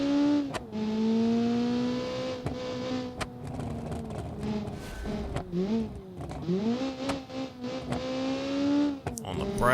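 A Lancia Group B rally car engine in the BeamNG driving game revs hard and loud, climbing through gears with brief drops as the throttle lifts, a continuous near whine under a voice commentating.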